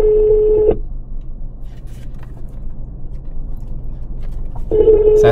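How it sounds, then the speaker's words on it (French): Outgoing telephone call ringing: a steady electronic ring tone sounds, stops for a long pause of faint background hiss, then sounds again, loud and close. "Ça sonne."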